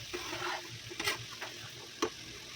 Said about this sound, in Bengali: এইভাবে নাড়াচাড়া করতে থাকতে থাকতে পেঁপে ভাজিগুলো হয়ে যাবে